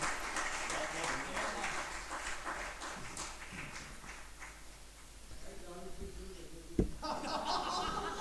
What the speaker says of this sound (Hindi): हम तालियां बजा लें।